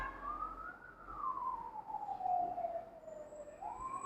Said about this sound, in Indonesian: 4 kendaraan sudah bersiap meninggalkan Mako Damkar menuju ke lokasi kebakaran di Jalan Suno